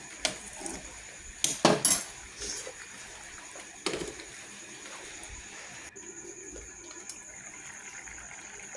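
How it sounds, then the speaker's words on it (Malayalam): Prawn curry is stirred in a pot, with metal spoon clatter and scraping in a loud cluster near the start, then a lid clanks into place, followed by quieter pot noises and faint background hiss. "അപ്പോൾ നമ്മൾ ചെമ്മീനൊക്കെ നല്ല ഇളക്കി കൊടുത്ത് മൂടി വെക്കുകയാണ്."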